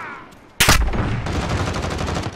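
Gunfire in Call of Duty Modern Warfare: a loud single blast followed by a dense, rapid stream of shots and game noise that continues to the end.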